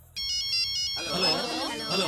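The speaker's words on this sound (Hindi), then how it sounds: "मेरा है माई सेल फोन।" A cell phone ringtone plays a repeating electronic melody of short beeping notes, then a voice cuts in over it partway through, the tone continuing under the talk in a scene from a Hindi-dubbed film.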